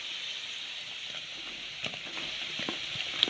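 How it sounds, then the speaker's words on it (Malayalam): Sliced onion sizzling in a pan while making rava upma, a steady close frying hiss with a few faint stirring clicks and pops, no voices over it. "സവാള ഒന്ന് വഴന്നു വരുന്നത് വരെ വെയിറ്റ് ചെയ്യാം"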